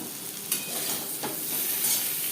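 Steady sizzling of potatoes lightly frying in a pan for Bengali aloo posto, with a couple of soft stirring scrapes; no voices.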